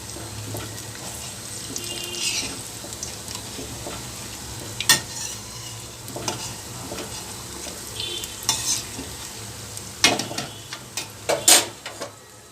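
Mint and curry leaf bondas frying in hot oil in a pan, a steady soft sizzle with occasional sharper crackles and scraping stirs toward the end, close and without talk.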